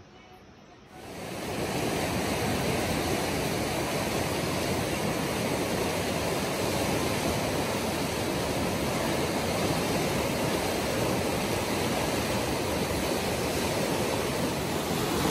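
A river rushes steadily beneath a bamboo footbridge on the Annapurna Circuit in Nepal, a loud, unbroken roar of water that swells in after the first second and continues without pause.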